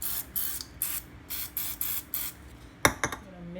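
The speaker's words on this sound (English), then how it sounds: "Alright, so we're gonna spray with some olive oil" Pam olive oil cooking spray misted in a run of short bursts, about eight quick hisses in an even rhythm, close and clear, with a brief clatter and a voice near the end.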